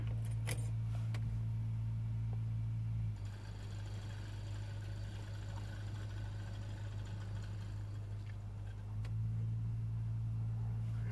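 Car keys jangle at the ignition of a Vauxhall Meriva 1.6 as it is switched off, a few brief rattles at the start over a steady low engine hum that drops and then returns.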